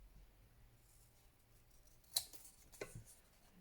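Scissors trim a thin grey ticket in a quiet room with a low hum behind. Two close snips sound near the end, one crisp and one softer, with no talking.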